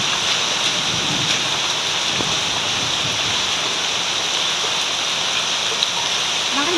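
Heavy rain pours steadily beside a house, a dense, loud, unbroken hiss with faint low thunder rumbling underneath, and no talking.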